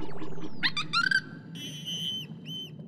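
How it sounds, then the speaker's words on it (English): Cartoon dolphin whistles: a rapid series of bright, rising and falling squeaky chirps, followed by longer sustained whistle tones with a few short repeats, clear and alone over a faint low background. "Never heard that whistle before"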